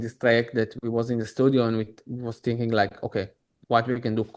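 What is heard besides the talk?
None of the usual background noises is heard.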